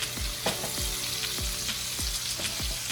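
Green onion frying with shrimp and hot peppers in a pan, a steady sizzle with low stirring thumps roughly every half second, close and fairly loud, no talking.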